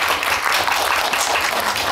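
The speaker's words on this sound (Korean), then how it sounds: "박수 한번." Steady, dense applause from an audience at a film festival event, loud and sustained for the full stretch without a break.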